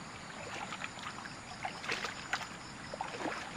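Rushing floodwater from heavy rain pours through a widened dug channel beside a flooded farm plot, a steady broadband wash with scattered splashy surges, fairly close and alone.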